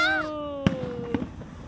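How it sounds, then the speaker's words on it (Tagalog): A couple of sharp firework bangs pop in quick succession, one after another, following a brief high-pitched tone at the start. "Ganda ng fireworks!"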